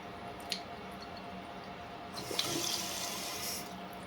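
A Kohler Cimarron toilet tank makes an intermittent water noise: a steady faint hiss of flowing water that swells louder partway through, with a couple of small drips or clicks, and no talking.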